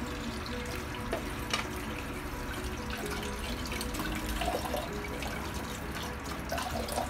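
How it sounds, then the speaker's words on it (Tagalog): Tap water runs into a kitchen sink while sweet potato tops are washed, a steady splashing rush with faint drips and clinks throughout, fairly quiet and with no talking. "hugasan muna natin siyang mabuti"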